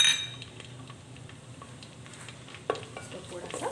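Whole garam masala spices (cinnamon, black cardamom, stone flower, mace, cloves, black pepper and cumin) in hot oil give a faint, steady sizzle, with light stirring scrapes and one sharp utensil clink partway through.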